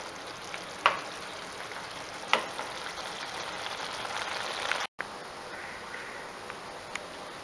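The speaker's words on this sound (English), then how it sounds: "So cook in high flame and keep stirring." Bottle gourd milk halwa with jaggery cooking on high flame while being stirred, a steady close sizzle and bubbling with a couple of sharp clicks and a brief dropout midway, no talk.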